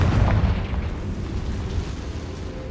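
A Confringo fire spell exploding in Hogwarts Legacy, a heavy low boom at the start that rumbles and slowly fades for a couple of seconds with no talk over it.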